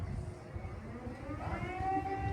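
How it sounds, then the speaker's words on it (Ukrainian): A distant siren wails faintly with a rising tone over a low rumble of background noise, with no talking. "О, сирена, зараз буде бабах."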